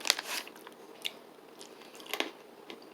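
Crunchy Bailey's Irish cream flavored baking chips bitten and chewed close up, a few sharp crisp crunches spread irregularly with quiet pauses between.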